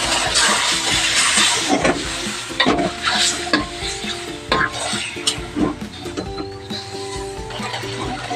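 Pork liver stir-frying in a hot pan, a steady loud sizzle broken by repeated clanks and scrapes of a utensil against the pan, with no talking.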